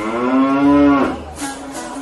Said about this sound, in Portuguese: mugindo, sem se desviar do caminho.